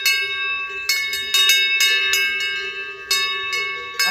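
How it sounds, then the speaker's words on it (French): A bell worn by a cow rings out close and loud in a rhythm of irregular strikes, each clang leaving a long, resonant ring that fades slowly before the next hit. "ils vont l'entendre, hein, le bruit de la cloche"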